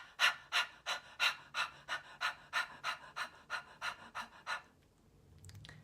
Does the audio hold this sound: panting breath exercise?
yes